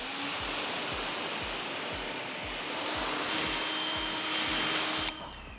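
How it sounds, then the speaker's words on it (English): A pressure-washer style water spray rinsing foam cleaner off a car's paint, a steady loud hiss of spray that runs continuously and then cuts off abruptly near the end. "So just gonna rinse that one off."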